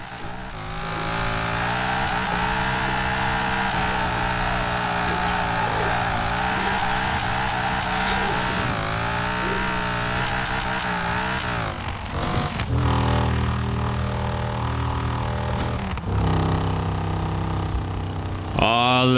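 A drift-tuned Dodge Viper in Forza Horizon 4 roars loud and steady under sustained throttle, its rich harmonic rumble wavering as it slides, with sharp revs, gear changes and tire squeal toward the end.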